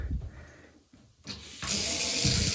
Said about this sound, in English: next is a leaking bath tap / shower